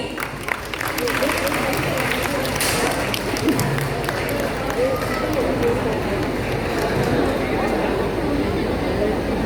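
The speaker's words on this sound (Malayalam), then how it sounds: "നല്ലൊരു കൈയടി" Audience applause at a stage event during a movie promotion at Kalpathy Ustav in Palakkad, a dense, continuous clapping from a crowd that fills the whole stretch at a steady level.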